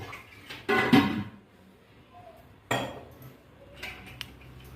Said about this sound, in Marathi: हे बघा, झाकण लावलं.